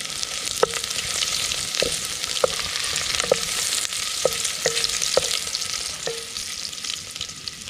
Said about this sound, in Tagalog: magigisa na tayo ng sibuyas at bawang para sa ating tinola tsaka luya